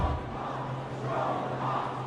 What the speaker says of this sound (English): To roaring applause?